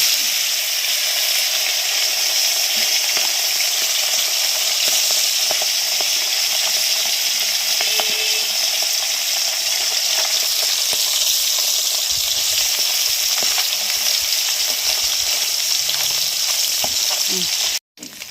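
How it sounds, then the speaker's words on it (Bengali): Steady, loud sizzling of khalse fish frying in hot oil in a kadai, a continuous crackling hiss with occasional pops, cutting off abruptly at the very end. "তেলে দিচ্ছি ভাজার জন্য"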